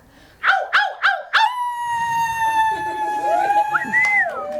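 A person imitating a dog howl: three or four sharp yelping barks, then one long, loud, wavering howl held for several seconds, with faint voices in the background.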